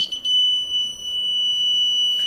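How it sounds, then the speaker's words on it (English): A model train crossing buzzer sounds a steady, high-pitched electronic tone continuously without pause, loud and close, with no voices. "the buzzer is ringing"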